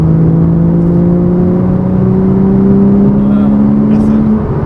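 A Porsche Cayman's engine hums steadily and rises in pitch as it accelerates, a loud continuous drone with a faint whir above it.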